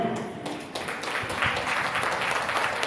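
Scattered audience applause at a Tamil community gathering in the Andaman and Nicobar Islands, a steady patter of many hands clapping over a crowd murmur that lasts the whole moment.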